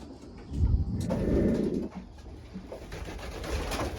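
Racing pigeons coo softly in a loft, a low murmuring burst near the start followed by quieter scattered coos and rustles.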